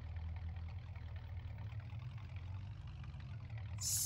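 A car engine idles steadily in Farming Simulator 19, a low, constant rumble running alone for the whole stretch with no voices over it.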